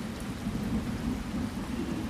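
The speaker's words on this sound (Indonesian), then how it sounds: "masih hujan tuh posisinya" Steady rain falling at night in the forest on Mount Gede, a constant dense patter with a low rumbling undertone, fairly close and uninterrupted, with no voices.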